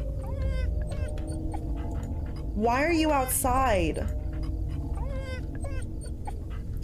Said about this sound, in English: Oh, they have a dog.